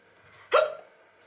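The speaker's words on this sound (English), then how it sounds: "I've got the hiccups" A single sharp hiccup, close and sudden, standing alone in a quiet room.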